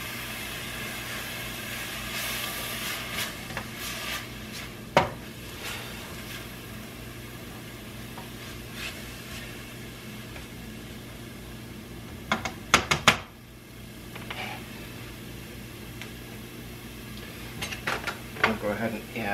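Spices get stirred into food sautéing in a pan for beef stroganoff, with a low steady sizzle and sporadic sharp clinks and scrapes of a utensil against the pan, a cluster of clatters partway through.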